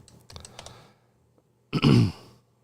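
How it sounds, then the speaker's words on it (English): A sick man coughs and clears his throat close by, a short rough burst after a few quieter breaths and throat noises, then silence. "I'm sick, so please excuse my coughing."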